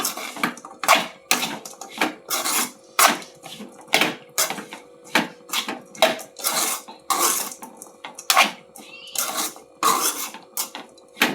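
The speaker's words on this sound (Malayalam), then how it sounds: "ഒന്ന് നല്ലവണ്ണം ഒന്ന് ഇളക്കി കൊടുക്കാം അല്ലേ" Mango pickle with curry leaves being stirred in a pan: quick, repeated metallic scrapes and clinks of a spoon against the pan in an irregular rhythm, close and fairly loud, with no talk.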